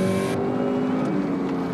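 A 2005 Chevrolet Cobalt SS brakes hard from 100 km/h, its engine and road roar loud and close, settling from a bright rush into a steadier lower drone as the car slows, with no voices.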